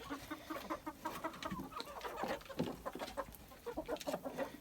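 Several Barbezieux chickens cluck and murmur close by in a steady, busy stream of short calls, with no one talking.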